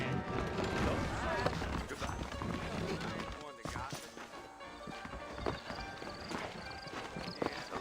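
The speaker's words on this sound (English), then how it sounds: "I got the horses saddled up and ready out front." Saddled horses clip-clop in Red Dead Redemption, a busy run of hoof beats on a New Orleans street that carries on under game voices, with a brief whinny and steady background bustle.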